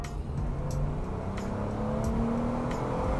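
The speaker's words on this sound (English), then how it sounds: "All right, let's give it some gas." A lifted Jeep Wrangler Unlimited Sahara on big off-road tires with a K&N filter accelerates on a road, its engine note climbing steadily, loud and close, with a faint clatter on top.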